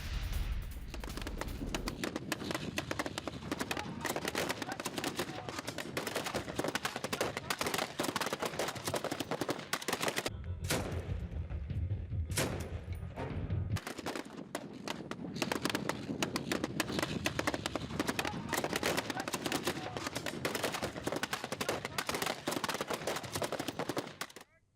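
Rebels and Assad supporters trade gunfire in Daraa, Syria. Dense, rapid crackling shots keep up almost nonstop at a moderate distance, with a brief thinner lull partway through.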